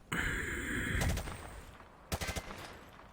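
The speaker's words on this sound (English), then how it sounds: "He sprayed bullets all over the damn place." Automatic gunfire sprayed from the hip in Call of Duty Modern Warfare 2 Remastered: a sustained loud burst with a ringing tail, then a short rapid volley of several distinct shots, no talk.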